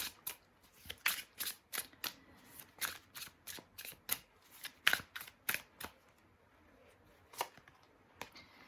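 A deck of tarot cards is shuffled by hand in a quiet room, giving a rapid series of crisp riffling and snapping bursts in an irregular rhythm, close and soft.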